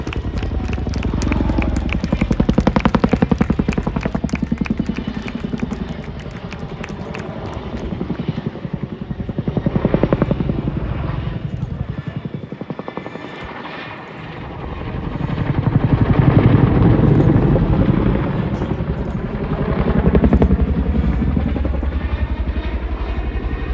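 A Boeing Chinook twin-rotor helicopter performs a flying display at RAF Cosford, its heavy rotor thump swelling and fading in loud waves as it passes and turns overhead.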